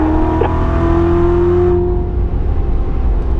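A car engine on a track pulls hard and loud up through the gears at high speed, droning steadily with a brief dip partway through, close and alone.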